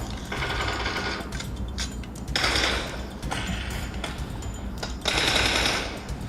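Rapid automatic gunfire from a mobile shooting game played on a realme 12 Pro+ phone rattles in long, dense bursts with brief gaps between them, loud and continuous with no talk over it.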